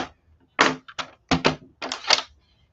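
Green cardstock for a card base is cut with a paper trimmer, giving several short, crisp clattering bursts of cutting close by with brief pauses between them.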